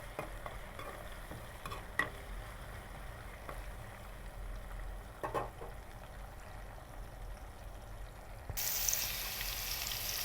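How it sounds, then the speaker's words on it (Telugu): Green chillies frying in oil in a home kitchen, a quiet, steady sizzle with occasional stirring clicks from a utensil, growing brighter and louder near the end. "ఇలా వేసుకున్న తర్వాత వీటిని బాగా నూనెలో అయితే ఫ్రై చేయండి"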